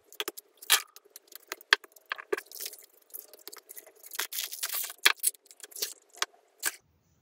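Crinkly plastic and cardboard packaging of a MrBeast Lab Swarms toy being torn open and handled close up, with irregular bursts of rustling, crackling and tapping separated by short quiet gaps.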